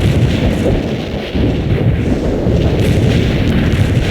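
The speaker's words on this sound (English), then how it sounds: "Commencing the barrage. Artillery strike on the way." Artillery barrage in a war video game mission, a continuous heavy rumble of distant explosions rolling together into a loud, dense roar that barely lets up.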